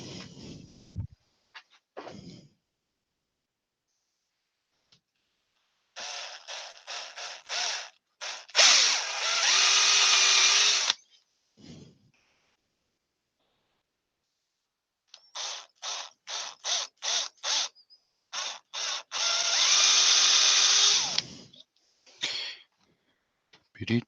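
Power drill boring into a small wooden toy farm animal on a woodturning project, running in two sets of short bursts followed by longer sustained runs, separated by quiet gaps and a few brief spoken remarks.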